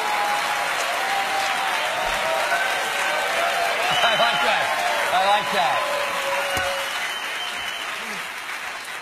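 Audience applause fills the room, steady and loud throughout with crowd noise, while a nearby voice speaks briefly over the clapping.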